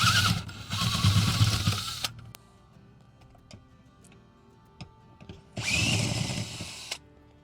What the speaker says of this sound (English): So now that we've removed those 2 bolts, we're ready to install our spacers.